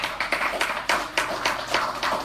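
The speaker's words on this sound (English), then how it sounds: "Can we give them a round of applause?" A small audience at a spirituality lecture claps in a rhythmic, evenly spaced beat, each burst sharp and close, repeating steadily with no talk over it.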